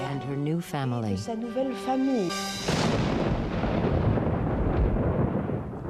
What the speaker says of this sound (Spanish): En la noche de la boda hubo una tormenta agorera.